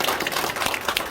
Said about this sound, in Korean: 박수로 마치겠습니다